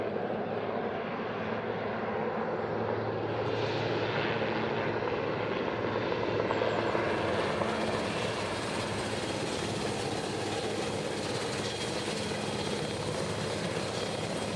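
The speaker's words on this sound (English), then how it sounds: "The helicopter's here now." A helicopter's engine and rotor drone continuously, loud and steady, with a broad whooshing roar that brightens partway through as it draws nearer.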